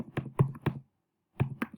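Keys on a computer keyboard are tapped in a quick burst of clicks, a short pause, then a couple more taps, close and fairly quiet.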